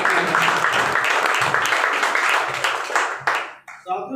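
A meeting crowd breaks into applause, a dense wash of clapping from many hands that carries on steadily before fading and breaking off near the end.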